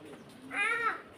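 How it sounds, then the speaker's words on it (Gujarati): A pigeon gives a single short coo with a warbling, rising-falling tone, heard fairly close against a murmur of background noise during an outing on a tour from Aseda to Bagdana. "આ કબૂતર નું બધું જોઈ લીધું ભાઈ"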